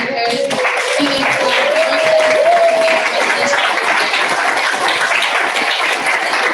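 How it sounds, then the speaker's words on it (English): An audience at a university celebration claps for student leaders and peer mentors, a loud, dense wash of applause with a brief voice at the start, holding steady to the end. "Let's give another big round of applause"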